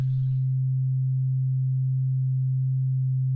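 A pure sine wave from the Bitwig Phase-4 synthesizer, playing as a steady, unwavering low tone for several seconds after a brief faint noise at the start, loud and alone.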